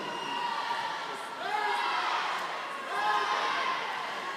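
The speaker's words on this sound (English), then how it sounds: "So some cheering from the crowd now" Spectators cheer and whoop in an echoing indoor pool hall at a county swimming championship, a steady crowd roar that swells in two waves, mixed with a commentator speaking.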